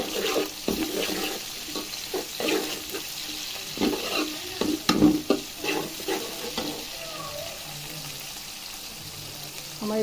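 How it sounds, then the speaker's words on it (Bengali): Chopped onions and green chilies sizzling in oil while being stirred, with repeated scraping strokes of a utensil against the pan over a steady frying hiss, close and moderately loud, easing off toward the end. "তেলের মধ্যে পেঁয়াজগুলো দিয়ে দিলাম, হালকা ভেজে নিলাম"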